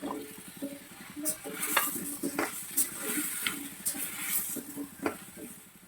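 Squash and tomatoes sautéed for Ilocano pakbet in a pan, giving a steady close sizzle broken by repeated scrapes and clinks of a spatula stirring against the metal.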